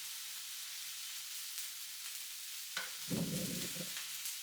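Salmon and shallots fry in a pan, a soft steady sizzle that swells briefly into louder crackling and stirring near the end.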